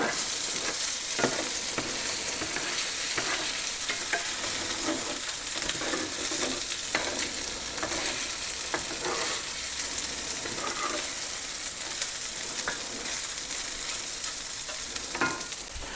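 Gnocchi fry and crisp in a hot pan for bacon Alfredo, a continuous close sizzle with scattered pops and occasional scraping knocks of stirring, no talking.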